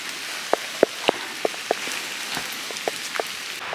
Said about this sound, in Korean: 비가 또 온다.